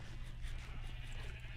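A Minecraft sheep on a sheep farm lets out a bleat over a steady, dense background hum that fills the whole short stretch, with no talking.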